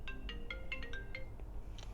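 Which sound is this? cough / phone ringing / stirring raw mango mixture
phone ringing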